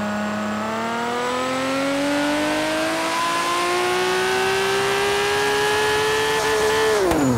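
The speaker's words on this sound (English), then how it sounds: "brake boosting means is a driving technique that uses the gas and brake in order to get a turbo spooled up" A turbocharged car is held on the brake while its engine revs to spool the turbo: a loud, steady, close engine drone that climbs slowly in pitch for several seconds, then drops sharply at the end.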